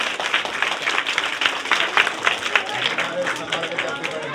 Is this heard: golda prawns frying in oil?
no